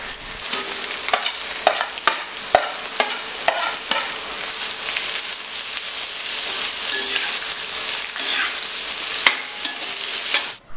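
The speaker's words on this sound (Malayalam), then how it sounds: "അവസാനമായി നമുക്ക് സവാള ചേർത്ത് കൊടുക്കാം." Onions and green chillies sizzle and fry in a pan for a Kerala-style clam roast, with steady loud frying hiss and repeated sharp clicks of stirring throughout, no voices.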